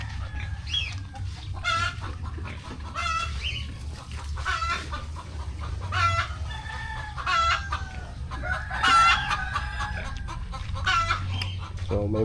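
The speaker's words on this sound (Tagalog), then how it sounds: "Ayun yung manok ko. Iingay sila." Backyard chickens clucking repeatedly nearby, with a rooster crowing several times over a low steady hum, the calls overlapping in a busy, close farmyard chorus.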